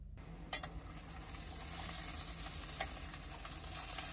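Food sizzles steadily in a hot pan while cooking, a constant crackling hiss with a few sharp clinks of a utensil being stirred, close by and without talk.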